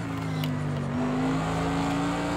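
A Mercedes-AMG GT3 race car in Project CARS 2 at Hockenheim holds a steady engine drone with a sustained tone that shifts pitch slightly as the throttle changes, loud and continuous with no speech.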